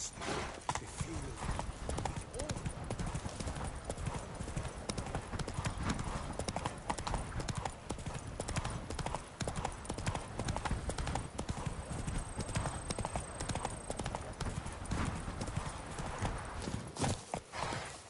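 Roach, the horse from The Witcher 3, gallops steadily for a long stretch, dense rapid hoofbeats close and loud over a busy game background, with occasional voice sounds mixed in.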